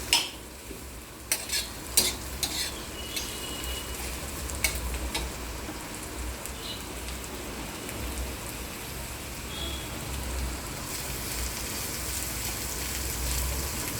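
Brinjal roasting on a hot griddle gives a soft continuous sizzle and crackle, with a few sharp taps and scrapes early on, close and fairly quiet with no voices.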